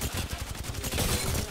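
Gunfire in the video game Apex Legends, a dense, loud burst of rapid shots packed into a second and a half of sustained, close blasting.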